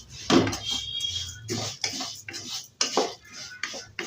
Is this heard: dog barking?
no